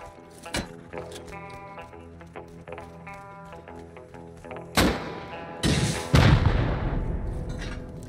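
HV rockets fired from a launcher in Rust: a sharp shot early, then a loud blast and two heavy booming impacts with rumbling tails, over a faint tonal background.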